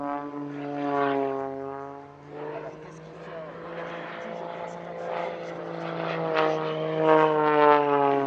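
Aerobatic propeller aircraft flying a half loop with half rolls at an airshow near Paris, its engine drone rising and falling in pitch as it climbs, turns and dives, heard alone at a moderate distance.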